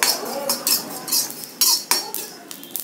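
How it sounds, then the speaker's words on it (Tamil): Carom seeds dry-roasting in a pan for a fish curry are stirred with a metal spoon, a run of close, fairly loud scraping strokes and clinks in an uneven rhythm. "அடுத்து ஓமத்தையும் வறுத்துக்கலாம்."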